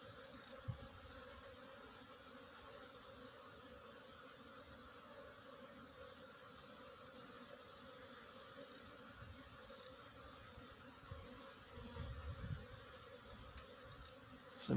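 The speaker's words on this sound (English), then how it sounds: "these bees couldn't be happier" Honey bees buzz steadily around their hive on a mild 55-57 degree February day after a week of rain, a dense, continuous drone with a few louder bees passing close near the end.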